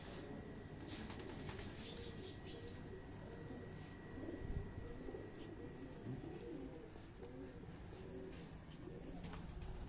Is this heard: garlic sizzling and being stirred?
no